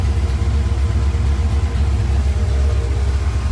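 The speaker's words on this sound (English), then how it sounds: "And the car instantly idles up." A car engine idles at a raised speed after its ignition timing is advanced to 30 degrees, a steady loud low rumble with a faint whine on top and no talking.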